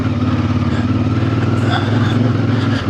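A 2026 CF Moto IBEX 450 parallel-twin motorcycle engine drones steadily while riding off-road, a close, even, throbbing hum that holds at a constant pitch throughout.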